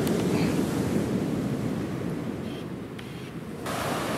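Sea waves wash onto a black-sand beach at a wild campsite at night, a continuous loud roar of surf mixed with wind buffeting the microphone, with no voices.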